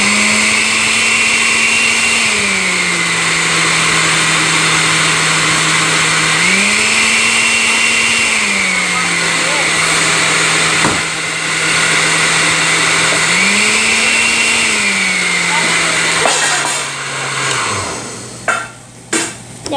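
A blender making a smoothie runs loudly for about seventeen seconds, its steady motor whine dipping and rising in repeated cycles before it shuts off with a few clunks.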